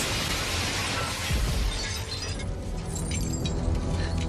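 Glass shattering in the 1988 action film Die Hard, a loud, dense crash of breaking panes with scattered debris and a steady rush of noise continuing throughout under a film soundtrack.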